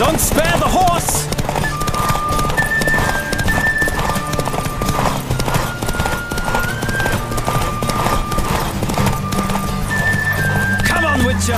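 Horse galloping in The Witcher 3 video game: steady rapid clip-clop of hooves with an occasional whinny, under game music and ambient wind, with talk over it.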